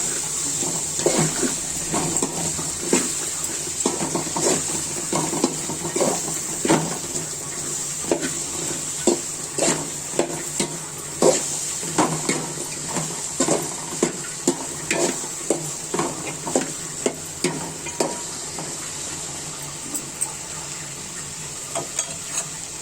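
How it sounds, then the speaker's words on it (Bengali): Okra (ladies finger) frying in a pan with rohu fish for a curry: a steady bright sizzle runs throughout, broken by frequent scraping clicks of a spatula stirring close by, with no talking. "ঢেঁড়সটা আমি এখন ভেজে নিবে"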